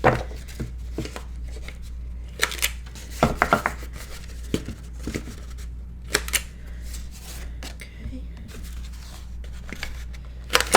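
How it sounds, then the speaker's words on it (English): A We Are Memory Keepers corner punch rounds paper corners to a quarter-inch curve, giving a series of sharp, close clicks and snaps at irregular intervals over a quiet background hum. "This is just a We Are Memory Keepers corner punch."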